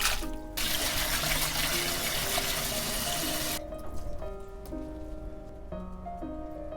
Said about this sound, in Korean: 다 삶아지면 건져서 찬물에 2번 씻어줄게요